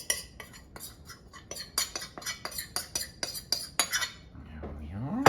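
Utensil scraping and clinking against a bowl as dry ingredients are mixed into keto carrot cake batter, a run of sharp close clicks and taps in an uneven rhythm, with a low rumble rising at the end.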